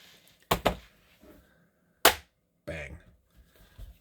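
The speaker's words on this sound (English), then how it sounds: "let's put the keyboard on" A Surface Pro 8 keyboard cover snaps onto the tablet with two sharp clicks close together, then a single louder snap, followed by faint handling rustles in a quiet room.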